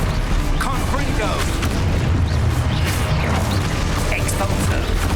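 Confringo explosion spells going off in Hogwarts Legacy, a loud dense wash of booming blasts and rumbling debris over heavy low-end combat noise, continuous for the whole stretch.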